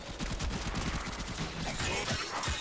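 A big gun fires in the Warframe video game as a dense, continuous burst of rapid shots that fills the whole stretch loudly.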